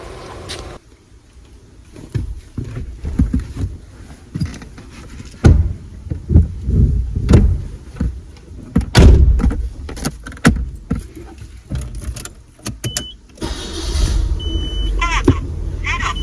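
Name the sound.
1991 Nissan C33 Laurel car setting off for a drive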